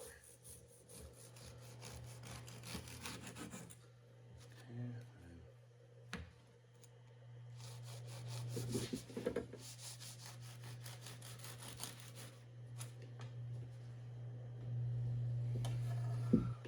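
A knife saws through a loaf of homemade sandwich white bread in repeated quiet rasping strokes, coming in separate bouts with pauses between them, faint and close, over a steady low hum.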